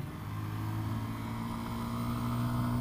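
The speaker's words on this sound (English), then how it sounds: "Oh, engine braking." A Lexmoto Michigan motorcycle's engine braking while riding, a steady low droning engine note with a throaty hum rising slightly in volume, plus road and wind rush, no talk.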